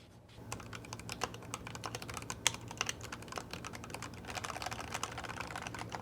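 Typing on an Akko ACR custom mechanical keyboard with factory-lubed switches, rapid soft clacking keystrokes in an irregular stream, recorded close to the board with no voices.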